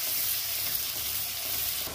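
Dal omelette sizzling and frying in a pan over a high flame, a steady broadband hiss that stays loud and continuous with no talking.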